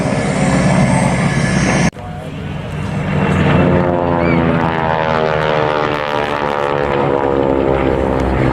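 A propeller aircraft at the Wings over Illawarra airshow drones loudly overhead, its engine tone sweeping down in pitch as it passes, after an abrupt cut from a different loud noise at the start.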